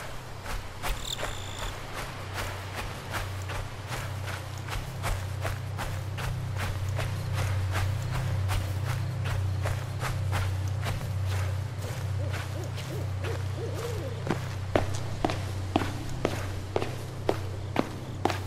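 Footsteps crunch along at a steady walking pace in a dark horror video game, close and distinct over a constant droning night ambience with insect chirps and owl-like hoots, then quicken toward the end. No voices.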